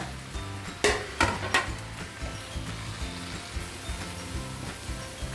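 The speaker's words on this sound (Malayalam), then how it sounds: "മുറിച്ച് വെച്ചിരിക്കുന്ന ചുരയ്ക്ക അഥവാ ലോക്കി ഇട്ട് കൊടുത്ത് നന്നായി ഉപ്പുമിട്ട് ഇളക്കി അടച്ച് വെച്ച് വേവിക്കാവുന്നതാണ്" Bottle gourd with salt stirred in hot oil in a pan, a steady close sizzle with a few sharp spoon knocks early on and ongoing scraping strokes.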